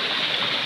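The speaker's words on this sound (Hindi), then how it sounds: "ये 108 वाली धारा वाली ये यहाँ से ये पानी गिरता है" Water pouring from the 108 spouts at Muktinath Temple, a steady close rush of falling streams with no breaks.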